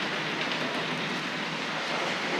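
Hornby L.M.S. Coronation 4-6-2 streamlined model train running on its track, giving a continuous, even whirring rumble at moderate volume with no distinct clicks and no voices.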